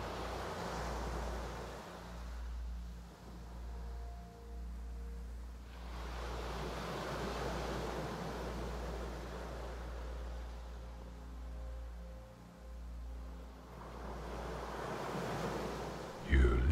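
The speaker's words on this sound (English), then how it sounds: "Listen to the soft movement of the waves, rhythmic and calming." Soft sea waves wash in slow, rhythmic swells, rising and fading steadily over a low rumble, with no talk heard.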